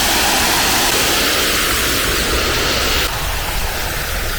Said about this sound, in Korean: 우와 이야 폭포다